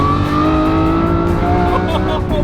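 A Lamborghini Revuelto accelerating hard, its engine note rising steadily as it pulls, loud and close, with a voice speaking briefly over the roar.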